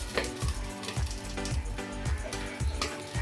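Katla fish paturi fries in a little hot oil on a covered tawa over a gas stove, giving a steady close sizzle with faint rhythmic knocks underneath.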